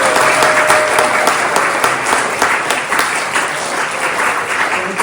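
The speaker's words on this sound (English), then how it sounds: "Please, a big round of applause for all the storytellers." An audience gives storytellers at a live storytelling night a round of applause, dense and sustained clapping that stays loud throughout and fades slightly toward the end.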